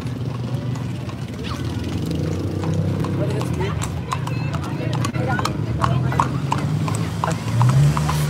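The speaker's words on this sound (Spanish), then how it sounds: "Caballo." Horse hooves clip-clop on a street while a crowd waits for a religious procession, the steady clopping close and loud over continuous crowd chatter and voices.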